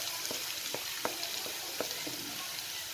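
Onion masala sizzling in a pan while being stirred, with a steady frying hiss and regular scraping strokes of a spoon about every half second, close up.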